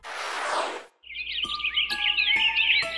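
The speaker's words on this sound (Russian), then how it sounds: "Ой, это ворон и сорок." Cartoon crow and magpie calling, a burst of noisy rustle followed by a bright, warbling chirping call that runs on steadily with repeated sharp accents, fairly clear and close.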